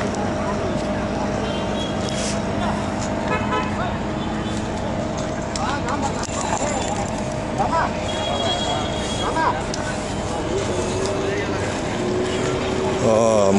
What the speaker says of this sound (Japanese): お、でっかいエンジンつけてんね。